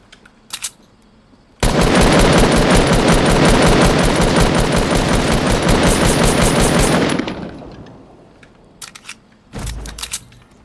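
Automatic gunfire in the video game Fortnite, a loud, close, continuous burst lasting several seconds that then tails off, with a few short shots before and after.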